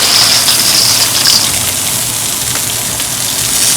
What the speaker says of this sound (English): So my water is boiling up.